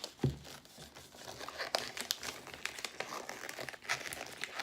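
Wrapping paper crinkling and rustling up close as the corners of a wrapped present are folded in, with a steady crackle throughout and no talking.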